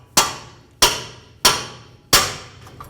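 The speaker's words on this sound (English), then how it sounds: "Now I'm going to use a pickle fork and separate the lower ball joint from the knuckle." Four sharp, evenly spaced hammer blows drive a pickle fork between the lower ball joint and steering knuckle of a 2006-10 Volkswagen Jetta. Each metallic strike rings briefly and stands alone without talk.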